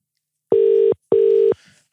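Two long electronic telephone ring tones, each roughly half a second, separated by a short gap, with the call going unanswered; clear and steady with no voices.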